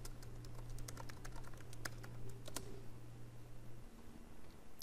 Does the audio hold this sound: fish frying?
no